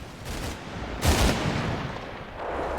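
Sustained, dense rattling gunfire with a heavy burst partway through, like a machine gun firing amid a noisy battle in the video game Combat Mission: Red Thunder.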